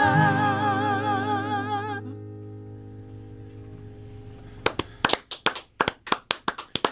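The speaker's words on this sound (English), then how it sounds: "the crowd goes wild" Small studio audience clapping after a song fades out, a dozen or so sharp, uneven claps coming in loose bursts, close and fairly loud.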